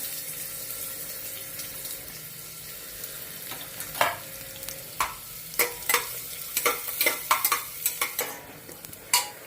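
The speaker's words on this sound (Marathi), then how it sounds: "मोहरी तडतडले आहे त्यामध्ये आपण हा फोडणीचा कांदा त्यामध्ये टाकून घेऊया" Onion for a spicy misal tempering hits hot oil with crackling mustard seeds. It sizzles, and stirring clatters in loud irregular bursts that grow more frequent.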